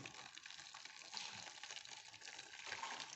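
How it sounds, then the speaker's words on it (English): Ginger and turmeric herbal tea pours through a sieve, a steady close splashing trickle of liquid running throughout with slight surges partway. "So I'll just put it there and I'll sieve nicely"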